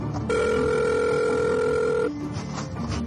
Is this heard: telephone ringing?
yes